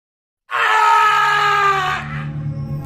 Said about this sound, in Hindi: चरण की चीख पूरे जंगल में गूंज गई